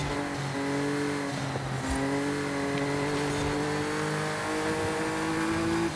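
A 2018 Audi RS4 Avant in Forza Horizon 5 accelerates hard, its engine note holding a steady loud drone that climbs gradually in pitch through the gears, with no talking over it.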